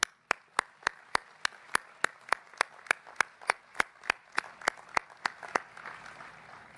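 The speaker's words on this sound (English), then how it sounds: "you all deserve a big round of applause" Sharp claps from a commencement ceremony audience in a steady, even rhythm, roughly three per second, fading slightly toward the end, with no talking.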